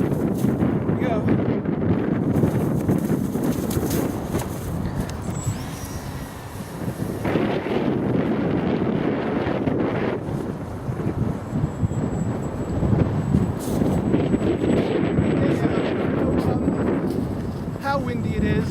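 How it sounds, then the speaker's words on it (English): Strong wind on a windy winter day roars over the microphone in continuous gusty rushes, buffeting throughout, while a person talks. "How windy it is"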